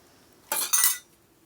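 Metal bowls from a new steel kitchenware set clink together as they are handled, two quick bright clatters close by in an otherwise quiet room.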